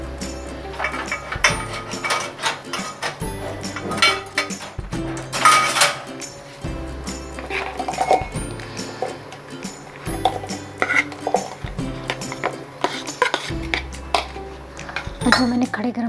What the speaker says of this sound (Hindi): हम जार में सारे टमाटर डाल लेते हैं।